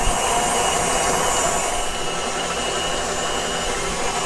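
Electric stand mixer running steadily on medium speed while creaming pound cake batter, a constant dense whirring hum with no pauses or talk.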